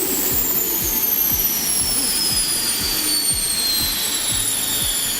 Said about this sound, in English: This is the piercing scream of turbine power. The Deutz T216 is an uncompromising post-war machine. Its simple diesel engine drives a water jet system